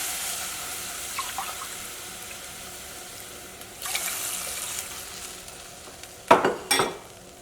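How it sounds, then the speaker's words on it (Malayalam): Water is poured into a cooking pot for noodles on a stove, with a steady faint background hiss, then a brief louder splashing pour near the end. "ഇതിലേക്ക് വെള്ളം ചേർക്കാം. ഞാനിവിടെ ഇതേപോലെ ഗ്ലാസ്സിൽ 1 ഗ്ലാസ് വെള്ളമാണ് ചേർക്കുന്നത്."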